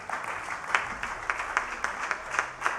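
An audience at an evening cricket show honoring Pakistan's team applauds the captain, with steady, moderately loud clapping and a few sharper claps standing out.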